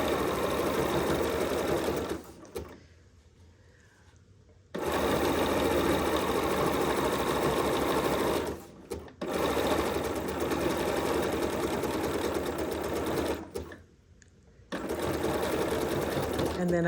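A sewing machine fitted with a #43 couching foot runs in long, steady stitching stretches, pausing twice briefly, loud and close while a person talks over it.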